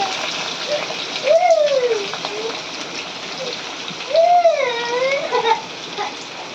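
Chopped onion goes into hot oil already holding mustard seeds, cumin, curry leaves and green chili for kanda poha, giving a steady close crackling sizzle while someone talks over it.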